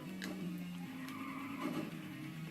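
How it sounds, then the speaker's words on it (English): Tires squeal as a car drifts around a corner in the racing video game Ridge Racer Revolution, a sustained whining screech over the engine hum, shifting pitch as the slide continues. "Now the drifting is different here"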